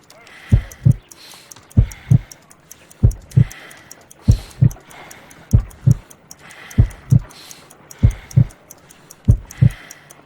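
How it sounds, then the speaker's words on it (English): Heartbeat from the video game Sherlock Holmes: Crimes & Punishments, a slow, weak pulse of paired thumps repeating steadily about once a second, loud and close with no talking. "I need to concentrate and count the heartbeats."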